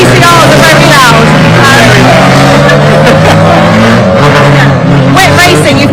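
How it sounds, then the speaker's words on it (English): TCR touring race cars circle Croft circuit, loud engines droning and shifting pitch as they pass, heard under continuous nearby conversation. "TCRs are very loud."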